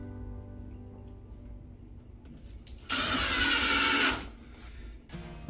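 A power drill driving a screw into wood in a cedar-lined closet, one loud whirring burst of about a second after quiet room tone, followed by a brief clatter.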